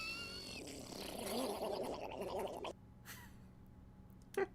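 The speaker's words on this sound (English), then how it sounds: "You're hearing Mario farts on the official channel of Vsauce." Cartoonish Mario fart sound effects play as a wet, gargling sputter with a rising squeaky whine, then cut to quiet before a short sharp blip at the end.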